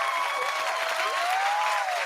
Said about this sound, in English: I need applause here.